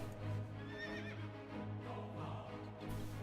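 Horse whinnying in World of Warcraft, a single rising-and-falling neigh near the start over a steady game ambience and hum, with light background texture following.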